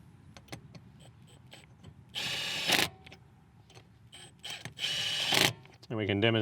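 A Milwaukee M18 FUEL compact 3/8-inch impact wrench drives lug nuts in two loud, dense bursts of hammering, each lasting about half a second to a second, with quieter handling noises between them and a whirring spin-down at the end.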